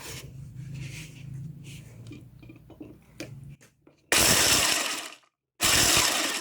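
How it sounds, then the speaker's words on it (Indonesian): A Philips blender grinds nuts in short pulses, two loud whirring bursts with a silent gap between, after quieter handling clatter in a kitchen. "sekarang kita akan blend ini menggunakan blender Philips"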